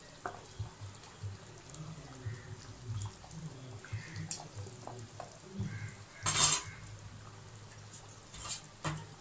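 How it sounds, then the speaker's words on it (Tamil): Mango fish curry cooks in a pot with soft bubbling and stirring, punctuated by a few scraping utensil knocks against the pot, close and fairly quiet. "இப்போ குழம்பு கொச்சிட்ருக்கோம்"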